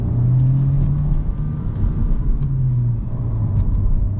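A 2023 Honda Civic Si rolling over small road bumps, its steady low rumble of engine and road noise broken by faint thumps from the stiff sporty suspension, heard from inside the cabin with no talk.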